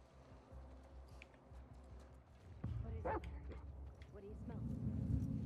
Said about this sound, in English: Oh shit, there's a dog.